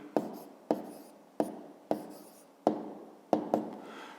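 A pen writes on paper during a fifth-grade maths exercise: a series of six or seven short, crisp scratchy strokes at a steady rhythm, close and quiet, with no voices.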